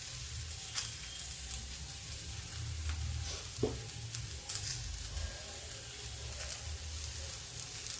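Cabbage and peas sizzle steadily in a pan after tomato is added for a spicy sabzi, a constant frying hiss with occasional stirring scrapes and no talk.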